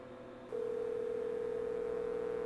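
A steady, unbroken electronic tone switches on after a short pause and holds evenly, a telephone line ringing while a dial-up modem connects, with no talking.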